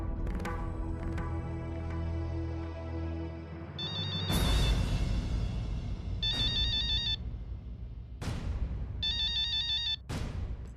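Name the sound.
phone ringtone ringing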